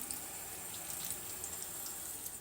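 Food being rinsed under a running kitchen tap, a steady continuous rush of water splashing into the sink for the whole stretch, fairly close.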